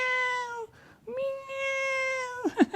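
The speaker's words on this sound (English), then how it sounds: "or like a cat." A cat gives two drawn-out, tonal meows close up, separated by a short pause, ending in a few quick chirpy sounds.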